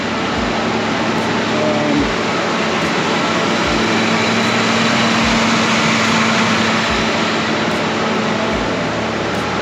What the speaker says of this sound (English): the idle's a little bit high